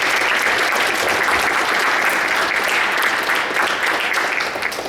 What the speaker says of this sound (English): If you guys could give them a big round of applause,